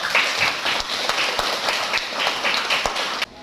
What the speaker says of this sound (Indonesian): Oke, kita kasih aplaus untuk kita semua.